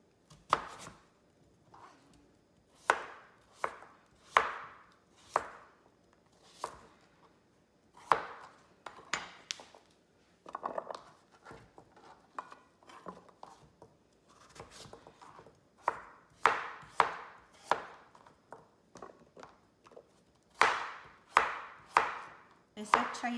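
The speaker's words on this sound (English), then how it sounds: "And you just cut them square." A knife cuts young, thin-skinned chayote squash into squares on a board, making about twenty crisp, close chops in uneven bursts, with short pauses between runs.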